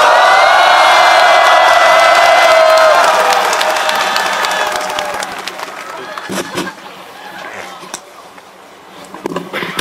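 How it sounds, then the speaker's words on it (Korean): Loud crowd applause and cheering at a Korean labor rally that starts strong, then gradually thins out, leaving scattered claps and a few shouts. "두 동지를 힘찬 박수와 함성으로 모시겠습니다."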